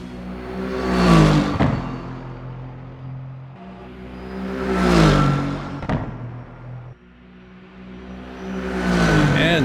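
A Porsche GT3 race car, the RSS Protech mod in Assetto Corsa, revs loudly and close in three rising, whining sweeps that each build to a peak and drop off, with no talk.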